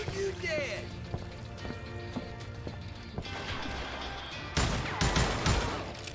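Gunfire in a western video game cracks out over a run of galloping hoofbeats, with a dense burst of loud shots near the end and game voices talking beneath.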